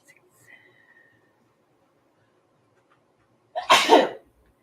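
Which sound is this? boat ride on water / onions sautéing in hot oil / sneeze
sneeze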